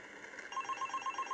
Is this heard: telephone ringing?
yes